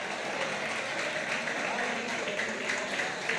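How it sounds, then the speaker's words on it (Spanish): Audience applause at a parranda gathering welcoming the mayor of Valsequillo, a dense, continuous wash of clapping from the crowd. "por el cual le damos un aplauso y muchísimas gracias, alcalde"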